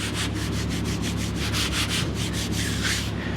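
A polishing pad buffing old single stage car paint, a steady rhythmic rubbing swish that pulses evenly and continuously, close and moderately loud.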